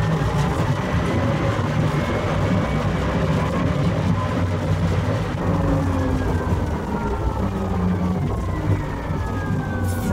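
A Rimac Nevera electric hypercar launches hard on a gravel surface, loud, steady crunching and rushing noise with a rising synthetic electric whine sweeping upward, close by and continuous.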